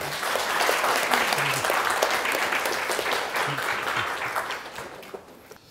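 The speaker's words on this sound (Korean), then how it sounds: "큰 박수로 환영해 주시기 바랍니다" A university lecture audience gives a warm round of applause to welcome a guest speaker, steady clapping that swells and then gradually fades away.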